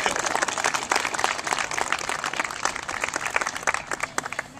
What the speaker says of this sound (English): oh, you can clap too, that's good.